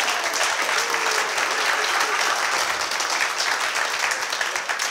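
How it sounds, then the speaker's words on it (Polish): An audience at an awards ceremony on a comedy show stage applauds, a dense, loud, sustained wash of clapping that holds steady for several seconds with faint voices underneath. "Brawa dla niego!"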